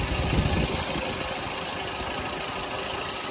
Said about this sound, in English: Right there, the compressor